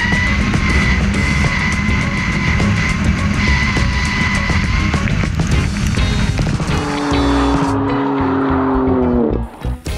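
A sports car drifting, loud engine roar with tires squealing continuously, close and sustained, then the engine note shifts and drops near the end as the slide eases off.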